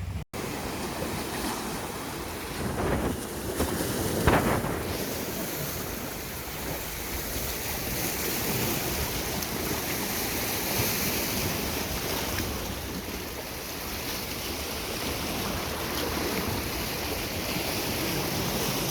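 Waves roll onto Woodbine Beach in Toronto on a cool day, a continuous surf roar mixed with wind buffeting, heard close and steady throughout with a brief bump near the start and no one speaking.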